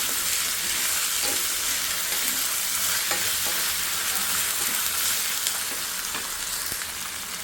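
Chicken fries with tomato and ginger garlic paste in a pan, giving a dense, steady sizzle close up. Scattered clicks and scrapes from stirring break through now and then, and nobody speaks.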